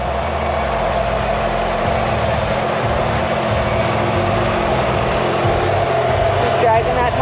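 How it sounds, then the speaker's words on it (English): An RC rock crawler drags its tire while steering, producing a whirring servo and motor drone with scraping, grinding bursts, while someone talks over it up close. "Just dragging that tire around."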